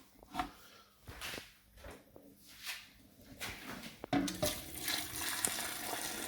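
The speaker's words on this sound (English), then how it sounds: "I'm now going to add boiling water" Boiling water pours and splashes steadily into a pot of pork ribs, with a few clinks and stirring knocks, growing fuller and louder toward the end.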